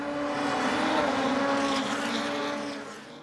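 DTM touring cars, an orange Opel and a Mercedes, race side by side, giving a sustained loud engine roar that swells and then fades slightly as they pass.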